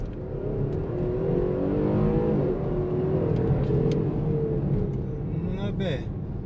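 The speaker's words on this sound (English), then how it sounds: "Sport mode, straight press the gas." A car in sport mode accelerates hard from inside the cabin, its engine rising in a sustained throaty roar for several seconds while someone talks over it.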